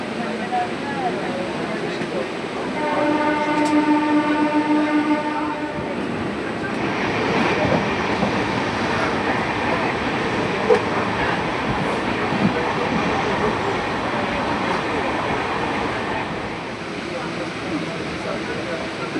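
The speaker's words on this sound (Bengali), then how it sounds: "আমরা ঘাটশিলা স্টেশনে এসে পৌঁছালাম।" A train pulls into Ghatshila station with a steady rolling rumble and clatter; a sustained horn-like tone sounds early on, and voices are heard faintly at times.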